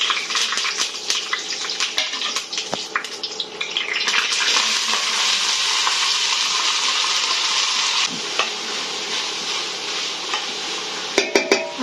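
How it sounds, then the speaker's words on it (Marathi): Sprouted black moth beans tempered with curry leaves hiss and sizzle in hot oil in a pan, with a loud continuous fry broken by scraping stirs and utensil clinks near the end. "मटकीला आहे ना फोडणी देऊन घेऊ कडीपत्तीची आणि परतून शिजायला टाकून घेऊ."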